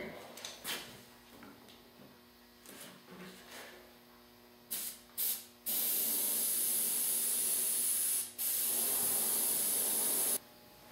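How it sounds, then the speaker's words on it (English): An aerosol spray can lays a second coat of paint onto a control line trainer model, with short spurts followed by long, loud steady hissing bursts, after some quiet handling noises. "The spraying is finally finished."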